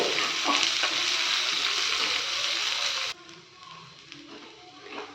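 Onions sautéing in a pan for a Tamil aval kara pidi kozhukattai, a loud, steady sizzle with scraping stirs that drops abruptly to a softer, quieter fry about halfway through.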